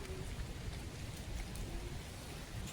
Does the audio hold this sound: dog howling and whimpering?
no